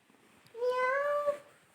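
A young child imitates a cat's meow with one drawn-out, rising-and-falling mew, close and fairly soft against a quiet room.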